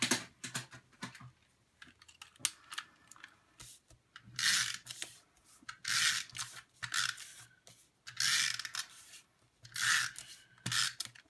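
An adhesive runner is drawn along the edges of paper scraps for card making, giving short, scratchy rubbing strokes in an uneven rhythm with brief pauses between passes.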